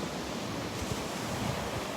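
Steady rushing surf on the beach at Delnor-Wiggins, a continuous broad wash of breaking waves with slight swells, close and fairly loud with no voices.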